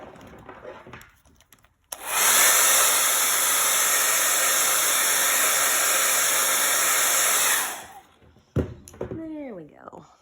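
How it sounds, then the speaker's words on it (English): A handheld blow dryer switches on abruptly and runs loud and steady for about six seconds, drying paint on a canvas painting of a camper, then cuts off; brief brushing and handling noises come before and after. "Let me hit it with my blow dryer."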